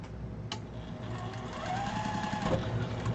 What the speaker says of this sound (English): So this is how we're sewing these together.